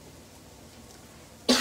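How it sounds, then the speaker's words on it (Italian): A single sharp cough bursts out at the very end after near silence, close and loud. "Scusate la tosse."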